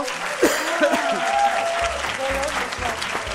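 A studio audience applauds on an Armenian TV game show, with dense clapping going on steadily throughout, along with some scattered voices and cheers in the crowd.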